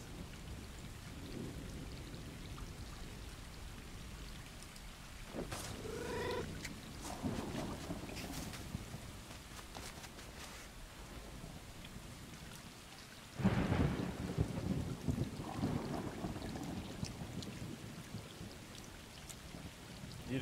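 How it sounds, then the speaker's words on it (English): A thunderstorm in the video game Stray, with steady heavy rain and loud thunder cracks, one sharp boom striking midway through and rumbling on under the downpour. "That lightning is hella loud."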